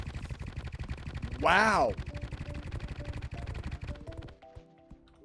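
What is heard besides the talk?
charged ink gun firing in Terraria Thorium Mod video game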